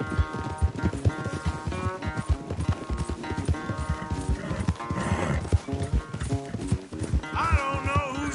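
Rapid clip-clop of galloping hooves in a Red Dead Redemption 2 horse race runs throughout, loud and steady, with a horse whinnying briefly near the end over layered game music.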